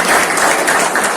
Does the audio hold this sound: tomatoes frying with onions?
no